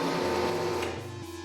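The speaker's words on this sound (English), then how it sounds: "I gotta lower the bit each time to get that last 3/4 inch of milling." A milling machine bit cuts into a 2-inch wooden dowel, reducing it to 1 3/4 inch diameter, giving a steady close whine that eases slightly toward the end.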